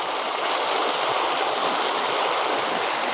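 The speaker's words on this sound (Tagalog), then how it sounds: "Tingnan mo, grabe yung baha." Floodwater after heavy rain rushes past in a loud, continuous broadband roar, close and steady with no pauses and no talk.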